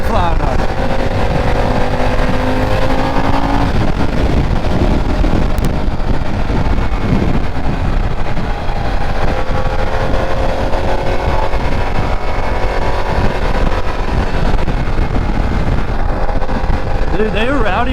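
A 2024 Harley-Davidson Pan America motorcycle riding at speed, its engine drone buried under heavy roaring wind buffeting the microphone, loud and constant, with voices talking over it.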